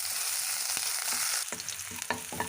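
Chopped onion, ginger and green chilli frying in a pan of hot oil and tempering spices, a steady dense sizzle with several sharp crackles and stirring scrapes partway through.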